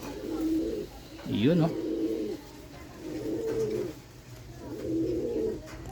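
A pigeon coos close by in three or four soft, rounded phrases with short pauses between them, while a person talks quietly over part of it.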